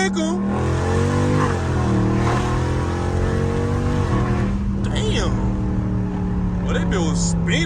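A stage 2 tuned Dodge Charger Scat Pack roars through a hard pull with its wheels spinning, the engine note loud and rising continuously, with voices heard over it.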